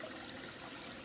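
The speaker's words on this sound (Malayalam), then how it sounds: "അവരുടെ കൃഷിസ്ഥലം നനയ്ക്കാൻ വേണ്ടിയിട്ടാണ് ഈ ഒരു പൈപ്പിൽ വെള്ളം പോകുന്നത് കേട്ടോ" Water runs steadily from a leaking irrigation pipe that carries water to farmland beside a dried-up river, a continuous close-up hiss and trickle with no voices.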